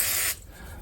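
A short, sharp burst of WD-40 aerosol hisses onto an axle bolt of a 1997 Honda Civic, then stops abruptly, leaving quiet garage background.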